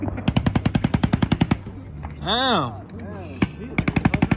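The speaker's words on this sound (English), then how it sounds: "it's great to go shooting out here" Rapid automatic gunfire rattles at an outdoor shooting range, one loud burst, then a pause where someone shouts, then a second burst, all close and dominant.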